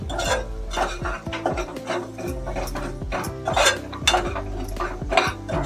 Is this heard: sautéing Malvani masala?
yes